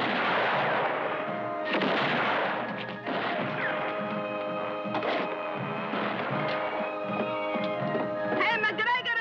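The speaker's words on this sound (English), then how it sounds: "Set it down and start shooting, Jane." Gunfire in a spaghetti western shootout, sharp shots cracking over a continuous dramatic orchestral score, several reports spaced across the scene at moderate loudness.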